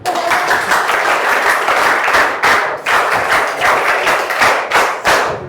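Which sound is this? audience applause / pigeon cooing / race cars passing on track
audience applause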